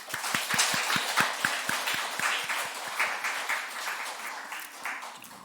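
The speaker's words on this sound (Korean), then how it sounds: "우리 청년들을 위해서 한번 박수 부탁드립니다." A church congregation at a Korean worship service claps in unison, sharp rhythmic claps at first that loosen into scattered applause and fade toward the end.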